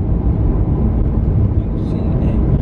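Steady low rumble of a car's interior road noise while driving to a venue, a broad continuous drone filling the low end with a faint high whine midway, loud and unbroken.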